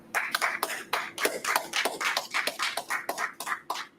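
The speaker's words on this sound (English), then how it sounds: "All right, clap it up." Audience applause at an ISUPK law class in Houston, a dense, steady run of hand claps lasting several seconds with no voices over it.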